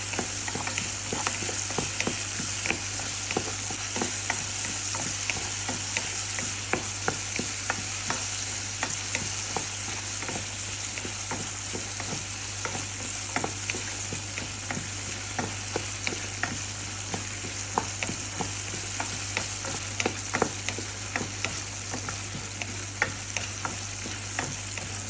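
Onions and spices fry and temper in hot oil for a Batticaloa-style squid curry, a steady dense sizzle with frequent crackling pops and stirring scrapes, close and continuous with no talking.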